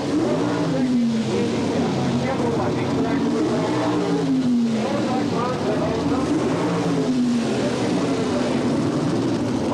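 Chevrolet Monza gas coupe sedan drag cars idle and rev on the starting line at the 1977 NHRA Spring Nationals, a loud steady engine drone with rising and falling pitch sweeps and no break in the noise.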